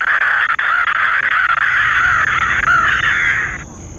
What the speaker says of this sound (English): a flock of crows came back to attack